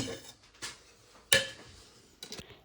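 A metal lid goes onto a cooking pot of beef and tapioca. A sharp clink stands out in the middle, with a few softer knocks and rattles before and after it in a quiet kitchen.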